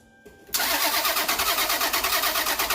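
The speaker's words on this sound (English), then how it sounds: "It might take a little while to charge up, but we'll try it now and see if it cranks." A 1993 Toyota Camry engine cranking on jumper cables after a quiet start, with loud, rhythmic pulsing turnover that continues steadily up close without catching.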